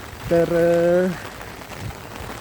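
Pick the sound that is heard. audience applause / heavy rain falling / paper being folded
heavy rain falling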